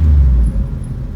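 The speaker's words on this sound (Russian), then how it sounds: "Звук такой, выхлоп у нее стоит." A VAZ car idles with a deep, loud exhaust rumble, a heavy low throb that stays close and steady, easing slightly midway, with no talking over it.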